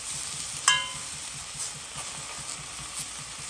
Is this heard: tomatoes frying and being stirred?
yes